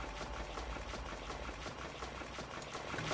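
A box-making machine in a Roblox SpongeBob game: a steady mechanical drone with a faint rhythmic clatter, like a machine running continuously at low volume.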